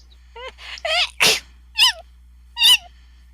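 A person sneezing several times in quick succession, short sharp bursts spaced irregularly, close and fairly loud over a steady low hum, with no talking.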